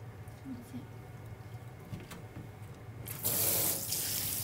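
Water runs from a tap as hands are washed at a fried-food shop, a low steady wash that swells into a louder, brighter gush near the end, with faint voices in the background.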